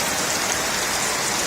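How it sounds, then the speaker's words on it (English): Heavy rain pouring down in a dense, constant hiss, loud and close, with no voices. "It's absolutely bucketing down right now"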